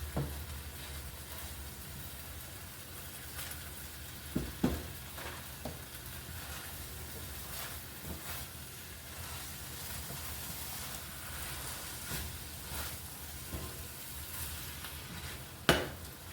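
Egg scrambling in a pan of fried rice gives a soft, continuous sizzle, with occasional scrapes and taps of a utensil against the pan, one sharper knock near the end; no talking.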